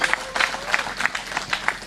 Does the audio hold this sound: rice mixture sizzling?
no